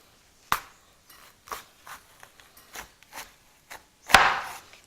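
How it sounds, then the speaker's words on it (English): A knife slices a bitter gourd down the center on a board, giving a sharp chop, a run of lighter taps and scrapes, then a louder crunching cut near the end. The sounds are close and come alone, with no talk. "cut this bitter gourd. Cut in the center."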